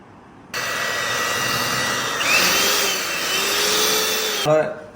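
An electric mixer whirs loudly and steadily up close, blending carrot cake batter with vanilla essence, its pitch shifting slightly midway before it switches off near the end.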